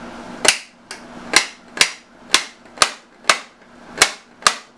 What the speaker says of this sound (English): we just keep on hammering away